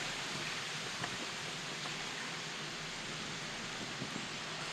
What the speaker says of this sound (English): Got some nice little waterfalls coming down the side.